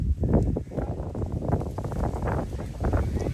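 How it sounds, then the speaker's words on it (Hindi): Strong gusting wind blows outdoors around a farm where horses and livestock have been let loose, a broad continuous roar of wind noise buffeting the microphone with fluctuating gusts throughout. "हवा चल पड़ी है बड़ी ही ज़बरदस्त माशाअल्लाह।"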